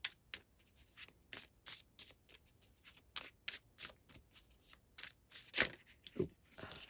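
Tarot cards are shuffled by hand in quick riffling bursts and crisp slaps, close and fairly quiet, in an irregular rhythm with short pauses between the bursts.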